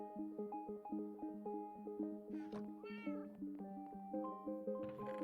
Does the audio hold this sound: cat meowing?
yes